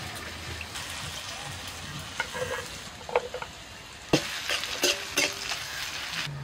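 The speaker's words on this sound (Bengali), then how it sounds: "পেঁয়াজটা একটু ভেজে নিয়ে এবার আমি শাক দিয়ে দিচ্ছি।" Onions and dried red chillies fry in hot oil, giving a steady close sizzle with occasional scrapes and clinks of a spatula stirring in the pan.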